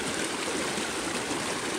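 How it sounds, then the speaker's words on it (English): Rushing mountain stream in the Smoky Mountains, a steady broadband roar of fast water pouring over boulders, close and constant with no voices. "despite the intimidating rushing water"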